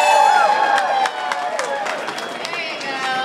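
A crowd cheers and shouts at an event as someone runs up, voices overlapping loudly and steadily, with a strong tone sweeping through at first and a slight drop in level partway.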